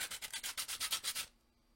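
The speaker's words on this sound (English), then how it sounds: "I'm going to try a heavy sandpaper just down here." Coarse, heavy sandpaper scrubs a surface by hand in about ten quick rhythmic strokes, close and distinct, then stops abruptly into near silence.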